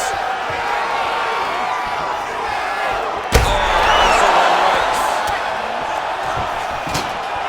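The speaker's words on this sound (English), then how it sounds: "Huge response from the crowd" A crowd roars in a UFC video game fight simulation between Manon Fiorot and Jasmine Jasudavicius, with steady arena cheering that swells after a sharp thud midway, under commentators talking.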